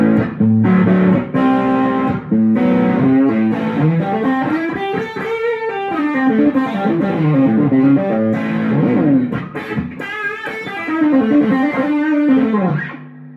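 Electric guitar played through a Dinosaural Cogmeister pedal with all gain sections engaged, producing loud, heavily distorted chords and sliding riffs that stay well defined, with a faint hum underneath.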